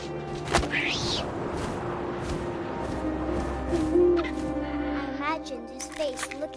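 In the game What Remains of Edith Finch, an owl gives a low, wavering hoot midway through, set against soft wind and scattered thumps while a calm voice narrates over it.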